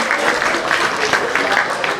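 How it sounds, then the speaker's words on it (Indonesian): An audience at an Indonesian musical discussion event claps in a sustained round of applause, with speech mixed in. "Tepuk tangan sekali lagi buat Kak Guster"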